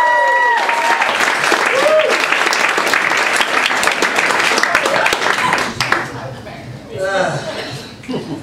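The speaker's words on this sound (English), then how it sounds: "put your hands together for Mr. Stephen Pantelides" Loud, sustained applause from a comedy club audience at Comic Strip Live, dense clapping mixed with chuckles and cheers for comedian Stephen Pantelides, fading after about six seconds into scattered laughter and a few remaining claps.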